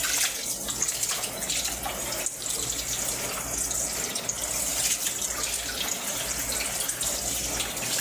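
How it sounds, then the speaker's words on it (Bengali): A whole chicken is washed under a steadily running tap, water splashing continuously into a sink at close range with no talking. "তো এভাবেই সম্পূর্ণ মুরগিটা আমরা প্রসেস করব, ধুয়ে ফেলব"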